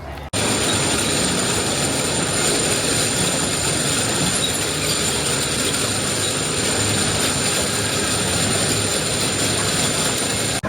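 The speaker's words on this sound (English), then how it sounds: "anyone that rides roller coasters knows what that iconic sound is, the lift hill for the big one" Lift hill chain of the Big One roller coaster at Blackpool Pleasure Beach, a steady loud mechanical clatter and rumble running continuously for about ten seconds with no voices.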